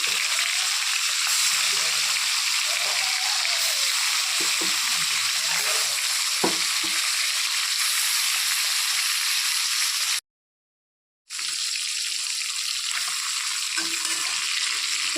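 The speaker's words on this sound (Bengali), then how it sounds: "এখন মাছগুলো এক এক করে ছেড়ে দিচ্ছি গরম তেলের মধ্যে" Fish pieces frying one by one in hot oil in a wok, a loud, unbroken hissing sizzle close to the pan, with a brief total silence partway through before the frying noise resumes.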